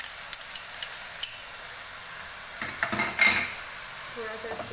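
Chicken keema with garlic-ginger paste sizzles softly in a pan as a utensil clinks and scrapes against the metal, stirring in short bursts over a constant low frying hiss.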